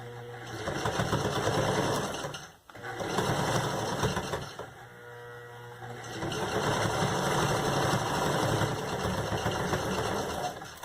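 A sewing machine runs in steady, rapid bursts as it stitches a zipper in place, pausing briefly twice between runs, loud and close with no talk over it.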